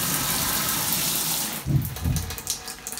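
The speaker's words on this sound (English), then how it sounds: "you can hear the water flowing" Water runs from a shower faucet after a reversed hot and cold handle repair, a steady close hiss that shifts to splashing, gushing bursts partway through.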